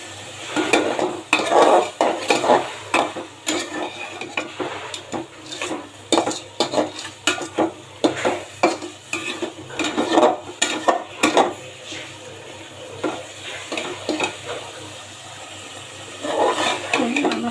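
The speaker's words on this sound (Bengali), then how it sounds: "আর মাছটাও আমি ভালো করে কষিয়ে নিব।" Fish frying with spice paste in a pan, sizzling under repeated stirring and scraping of a utensil against the pot, with clinks and quieter gaps between bursts of activity.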